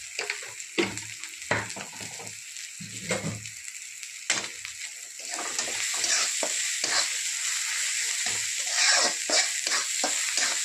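Green chilli paste with coriander and salt sautéing in a pan, with intermittent scraping stirs at first, then a fuller, steady sizzle under ongoing stirring, close and fairly quiet.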